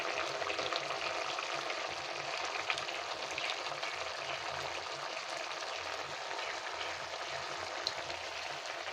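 Village-style Bengali pumpkin curry bubbles at a steady boil in a pan, with a constant hissing, sizzling simmer running evenly from start to finish, close and fairly quiet, with no voices.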